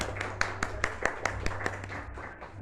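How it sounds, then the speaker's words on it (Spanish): Scattered, sparse clapping from a small audience at a book presentation for a novel, about a dozen distinct claps at an uneven pace, fairly faint and thinning out toward the end. "Les quiero pedir que les demos un aplauso"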